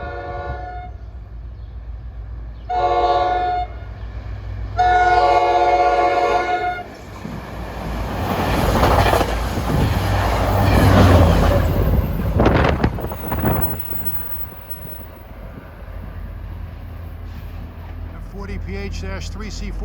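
An NJ Transit equipment train deadheading to Hoboken sounds several long horn blasts, then passes close by with a swelling rumble and clatter of wheels that fades away.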